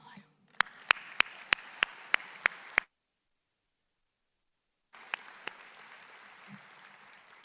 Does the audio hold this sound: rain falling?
no